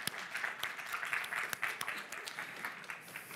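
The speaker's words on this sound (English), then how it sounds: "Pied Piper, big applause." An audience at a Game Pitch Arena event in Liberec claps for the Pied Piper game pitch, a faint, distant patter of scattered hands with a few sharper individual claps, fairly quiet throughout.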